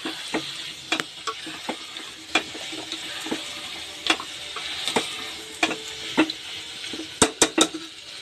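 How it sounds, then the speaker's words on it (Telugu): A spoon stirs garam masala and biryani masala through frying vegetables in a pan for vegetable biryani, sizzling steadily with repeated scraping clicks against the metal, a quick cluster of knocks near the end. "సో రెండు బాగా కలుపుకోవాలి."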